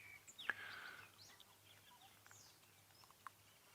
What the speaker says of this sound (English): Very noisy this morning. A pair of ground scraper thrush.